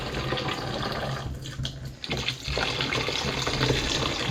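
Water gushing from a kitchen tap into the sink, a loud continuous rush that briefly dips and sputters midway before resuming at full flow.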